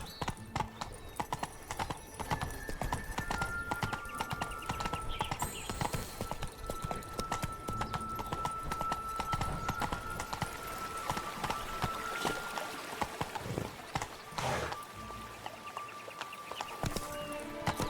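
Roach the horse gallops in The Witcher 3, hooves clip-clopping in a fast steady rhythm close by, with game ambience and occasional music tones underneath.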